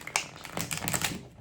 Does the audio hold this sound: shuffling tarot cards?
yes